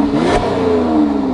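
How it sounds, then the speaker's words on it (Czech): An AMG Mercedes engine revs up close with its exhaust closed, giving a muffled, throaty tone, rising quickly and holding a steady drone. "První to vytuju s zavřeným výfukem"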